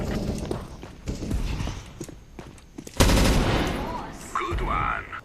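Gunfire in the video game CS:GO, a burst of loud rapid shots near the middle over busy game noise, with players talking throughout.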